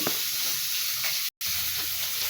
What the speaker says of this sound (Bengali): আমার ঝোল ফুটতেছে